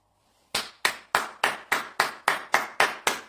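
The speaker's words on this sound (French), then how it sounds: "Attendez, j'applaudis" A pair of hands claps nine times, close and sharp in an even steady rhythm after a brief near-silent start, with no talking over it.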